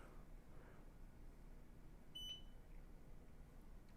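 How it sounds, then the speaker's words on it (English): A short electronic beep sounds once from an SD card device as it is switched back on, a brief clear tone over a steady background hum with no talking. "What is that beep that happens when I turn it on?"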